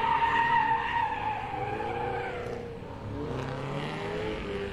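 A car spins out on a gymkhana course, its tires skidding and squealing loudly for several seconds with engine noise underneath, the screech fading toward the end.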